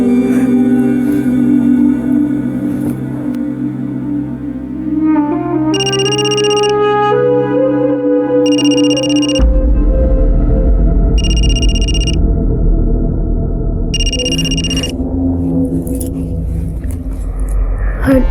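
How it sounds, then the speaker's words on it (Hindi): A telephone rings in four separate bursts, evenly spaced, sounding over a low rumbling dramatic music bed that swells beneath them. "फोन उठाओ।"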